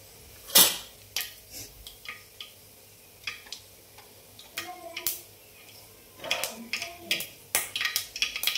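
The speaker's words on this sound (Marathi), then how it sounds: "मोहरी चांगली तडतडायला लागली की लगेच जिरे टाकून घ्यायचे" Mustard seeds crackle and pop in hot oil in a heated kadhai, with scattered sharp ticks and snaps coming thicker toward the end, fairly close and moderately loud, no talk over them.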